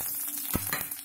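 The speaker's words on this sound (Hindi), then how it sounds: "घी में डालेंगे जीरा।" Cumin seeds hit hot ghee in a pan with a close, brief sizzle and a short scrape or clink in the middle, heard alone with no voices.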